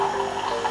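A Tassimo coffee machine pumps hot water through a coffee disc, giving a steady loud mechanical hum with a gurgling, liquid rush, continuous and close.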